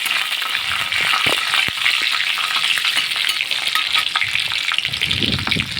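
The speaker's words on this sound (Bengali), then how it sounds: "এবার এটাকে আমি ভালো করে ভেজে নেব" Whole cumin seeds and green chillies frying in hot oil in a wok, a loud continuous sizzle with occasional stirring knocks, close and steady throughout with no talk.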